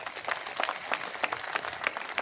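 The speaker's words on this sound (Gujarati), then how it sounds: "ચાલો એકવાર બધા એક સાથે તાળી પાડી દો" A crowd of booth presidents at a party booth convention in Navsari bursts into steady, unison applause, the massed claps evenly spaced and moderately loud with no voices on top.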